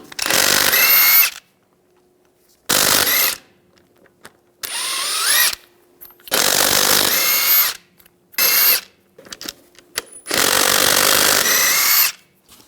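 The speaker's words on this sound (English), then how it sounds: "Using a 22mm socket, take the lug nuts off." A power tool with a 22mm socket spinning lug nuts off a 2011-2018 Ram 1500 wheel, loud close bursts of whirring and rattling in about six separate runs with short pauses between them.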